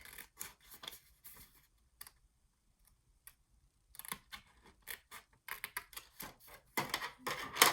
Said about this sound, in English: we're going to cut right here for this next one.